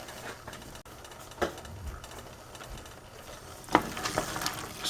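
A tomato and wheat dish with basil gets stirred in a pan, with a low background sizzle and a few sharp utensil scrapes and clanks against the pan, near and moderately quiet.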